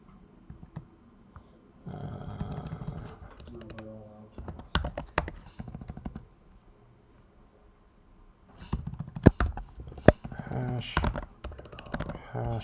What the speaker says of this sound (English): Just doing this to save myself some typing.